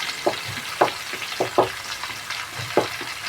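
Shallots frying in hot oil for a home-style vegetable curry, with a constant sizzle and several distinct spoon strokes scraping the pan at irregular intervals, close and alone.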